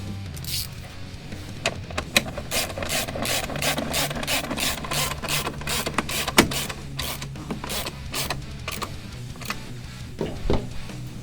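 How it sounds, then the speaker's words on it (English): A ratchet tightens the mounting bolts on a Paco Motorsports seat bolster, rapid rhythmic clicking in close bursts with short pauses and small knocks in between. "we can go ahead and tighten down both of those bolts"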